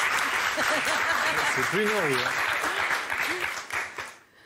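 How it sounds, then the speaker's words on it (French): A TV studio audience applauds in a steady wash of clapping while someone talks over it, then the applause fades out. "Applaudissez ceux qui pensent que cette histoire est fausse."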